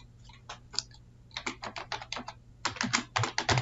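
Keys clatter on a computer keyboard in irregular bursts of quick taps separated by short pauses. The typing is close and fairly quiet, with no voices.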